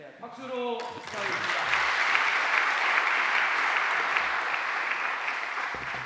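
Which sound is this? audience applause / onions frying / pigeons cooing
audience applause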